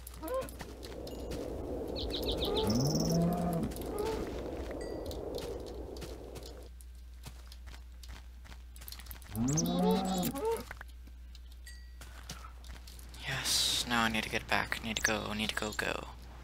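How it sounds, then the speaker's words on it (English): Cows in Minecraft's Tekkit modpack moo several times in drawn-out, pitched calls separated by pauses, amid footsteps and other game sounds, with a person talking over parts of it. "Cows!"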